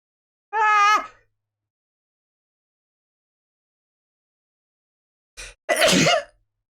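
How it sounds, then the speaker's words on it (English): A woman gives a single short sneezy exhale after a held breath, then a sharper sneeze-like burst several seconds later, both loud and close, with silence between. "I really need to sneeze."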